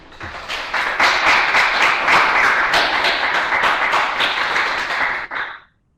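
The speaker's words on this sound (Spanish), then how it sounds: "la ovación es cerrada también digitalmente" An audience gives a sustained ovation at the end of a talk on web content as a source for history, loud continuous clapping with scattered sharper claps before it breaks off abruptly.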